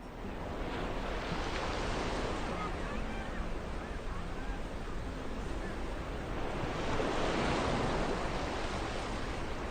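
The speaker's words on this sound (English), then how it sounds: "visitors hear the steady, gentle sound of waves" Ocean waves wash onto a beach in Oman in a steady, soft hiss of surf that swells gently twice, with wind noise blended in and no voices.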